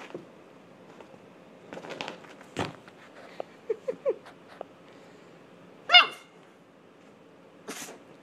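A dog gives a few short, sharp sneezes among small snorts and soft vocal sounds, with one louder burst near the end.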